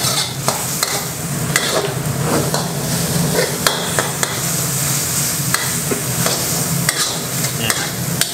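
Shrimp stir-fried over high heat in a wok with dark soy sauce for pad kaprao, a loud continuous sizzle broken by rapid, repeated metal spatula scrapes and clanks throughout.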